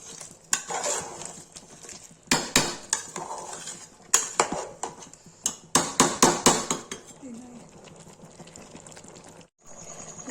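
Metal spoon stirring and scraping chicken masala in a pan at a dhaba-style home cooking setup, with repeated clattering strikes against the pan in bursts and short pauses, close and fairly loud.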